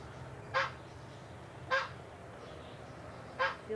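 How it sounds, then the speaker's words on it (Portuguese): Three short honking calls come from farmyard fowl, a turkey among roosters, spaced about a second apart and standing out faintly over a low background hum. "perua e os galos"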